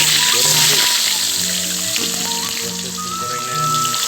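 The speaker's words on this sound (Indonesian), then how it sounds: "Goreng dulu." Chili and tomato frying in a pan for sambal, a steady close hiss and crackle of hot oil running throughout with no talk.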